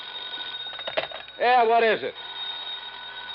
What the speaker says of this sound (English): pick that other phone off the hook